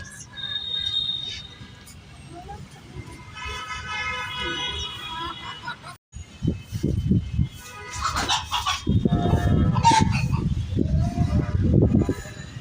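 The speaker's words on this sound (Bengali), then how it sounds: "এই যে মোরগ দেখেছি।" A rooster on a rooftop crows in a few drawn-out, strained calls at moderate distance. Voices talk over and between the calls, and louder rustling and handling noise follows.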